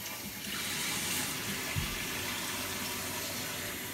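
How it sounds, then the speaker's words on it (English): Water rushes steadily into a toilet tank after a new fill valve is installed: a loud, close, continuous hiss with a brief low thump partway through and no talking. "We're gonna go ahead and turn our water back on."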